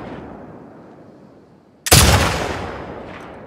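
A single loud, sharp gunshot at a red sign in The Last of Us Part 2, cracking suddenly out of low ambient noise and trailing off in a long echoing decay.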